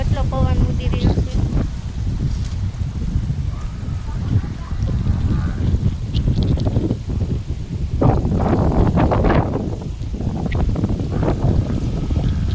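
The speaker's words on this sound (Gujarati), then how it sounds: "જો મિત્રો કેટલો પવન ઉડી રહ્યો છે।" Strong gusty wind roars across an open village during a storm, buffeting the microphone in continuous loud rushes, with a voice briefly speaking over it.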